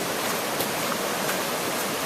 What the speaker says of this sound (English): creek's running down the road here